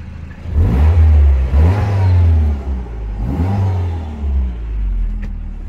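A Citroen DS3 Performance engine revs with a Cobra decat exhaust fitted, giving loud, close, deep rising and falling revs in two or three surges over a steady low rumble.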